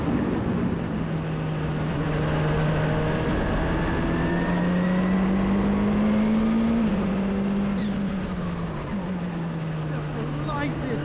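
A Courage C65 LMP2 race car engine drones steadily while the car is driven on track, a continuous loud whine that shifts in pitch through gear changes, with a driver's voice over it.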